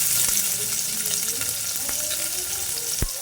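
Crushed ginger and garlic frying in hot oil, a steady close sizzle with light crackles and a brief stirring knock near the end, no voices.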